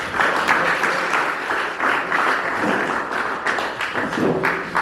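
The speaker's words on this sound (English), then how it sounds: "Can you please clap in for him?" Audience applause at a school talent competition final, a dense steady clapping from many hands that fills the room evenly throughout, with no voices rising above it.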